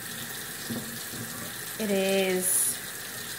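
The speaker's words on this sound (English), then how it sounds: "Turn my water on." A water tap runs steadily in a sink with an even rushing hiss, while a voice speaks briefly over it and a tonal hum rises partway through.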